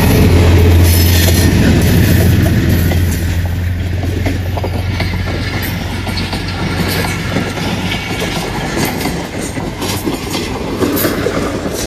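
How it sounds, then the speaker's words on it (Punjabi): A train passing along the railway line near Sohawa, loud and close, with heavy rumbling and rapid clickety-clack of wheels over the rails, a brief squeal early on, steady throughout with no talking. "ਆ ਰਹੀ ਹੈ ਜੀ ਰੇਲ ਗੱਡੀ"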